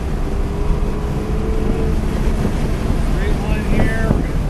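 A race car accelerates hard on a track during an SCCA time trial at MSRC, its engine note rising under heavy wind noise throughout, with a driver talking over it.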